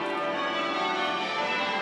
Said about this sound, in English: bells rang out at Westminster Abbey